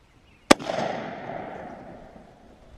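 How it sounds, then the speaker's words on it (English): A single sharp blast from a .410 gauge shotgun firing a Federal 3-inch TSS #9 shot shell outdoors, a loud crack followed by a long rolling echo that slowly fades. "You just flick it down when you're ready to shoot, and then you pull the trigger."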